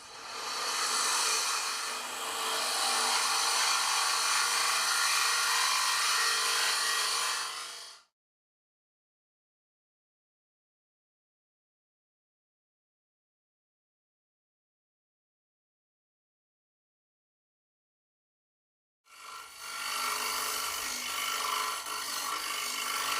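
A TurnMaster cutter shears wood on a lathe as a bowl turns, giving a steady loud rasping scrape for about eight seconds, then a long silence before the cutting resumes near the end.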